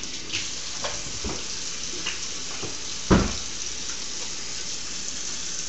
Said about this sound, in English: Now, the next thing you do is wash my hands again.